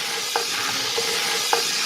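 Pancetta and garlic render in a hot, wide pot for a lamb and pepper ragù, a steady close sizzle of fat with a few soft stirring clicks.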